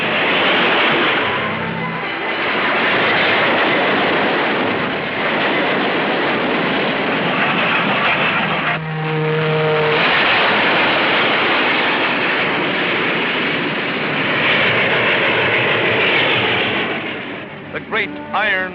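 A 1950s steam locomotive's wheels roar loudly and steadily on the rails, a dense, continuous rumble that barely lets up across the whole stretch.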